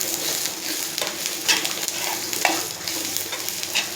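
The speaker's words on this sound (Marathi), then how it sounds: "आता याच्यात एक 15 ते 20 लसणाच्या पाकळ्या आणि थोडा आल्याचा तुकडा घालून घ्यायचा आहे, तेही याच्याबरोबर आपल्याला परतायचं आहे" Onion with 15 to 20 garlic cloves and a piece of ginger sizzles in a pan for Kolhapuri misal, with a steady close frying hiss broken by a few stirring scrapes.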